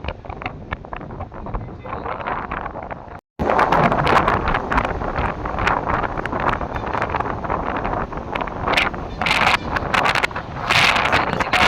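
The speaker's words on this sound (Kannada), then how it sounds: "ಗಾಳಿ ಹೊಡಿತಾರೆ, ಕುತ್ಕೊಳ್ಳೋಕ್ಕಾಗಲ್ಲ ಇಲ್ಲಿ." Strong gusty wind roaring across the microphone outdoors in Ooty, loud and continuous with a brief cut near the start, buffeting and rustling throughout with no voices.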